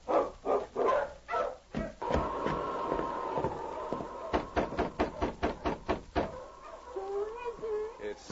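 A team of husky sled dogs barks in a run of sharp, rhythmic yaps mixed with clattering knocks, with talking voices and a steady tone in the background.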